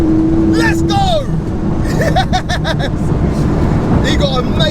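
During a street race between a 1200 hp Porsche 911 Turbo S and a 1000 hp twin-turbo Lamborghini Huracan, engine roar and wind rush fill the cabin, with quick rising shift sweeps while someone talks over it.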